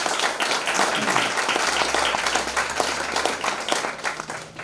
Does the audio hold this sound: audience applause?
yes